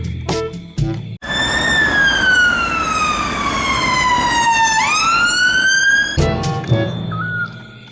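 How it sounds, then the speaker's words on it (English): An ambulance siren wails loudly and close by in a long sweeping tone that slowly falls and then jumps back up, with brief engine and traffic noise at the start and end. "Ambulance car."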